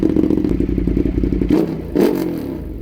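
A red Ducati motorcycle is ridden, its engine giving a loud, rapid, pulsing drone close by, with a short rise and scraping whoosh of wind toward the end.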